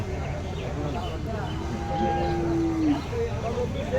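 A cow at a village cattle market lets out a long, drawn-out moo rising from a low drone, close by amid a busy crowd murmur, with people talking around it.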